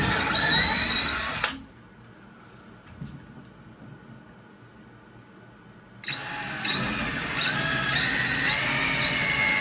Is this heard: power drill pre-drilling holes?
yes